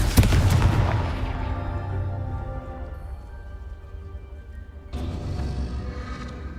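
A loud Confringo blast spell in Hogwarts Legacy goes off with a sharp booming crack and rolling rumble that decays over a few seconds, then a second, softer burst follows near the end.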